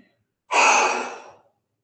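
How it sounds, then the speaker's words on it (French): A single strong, breathy exhale follows a pause, a loud rushing breath out lasting about a second before fading to silence during a relaxation exercise. "Prenez une grande inspiration. Inspirez. Bloquez la respiration 1 ou 2 secondes et soufflez fort pour évacuer."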